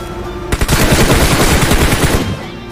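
Sustained rapid automatic gunfire from the video game PUBG Mobile, loud and dense, running for about two seconds before cutting off.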